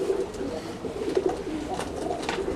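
Racing homer pigeons coo close by, soft throaty repeated calls rolling over a steady murmur of other birds in the loft.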